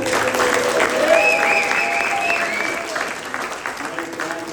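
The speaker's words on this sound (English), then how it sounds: "Everybody give him a round of applause." A crowd at a California Republican gubernatorial primary debate claps steadily for several seconds, a sustained wash of applause with a few voices cheering over it.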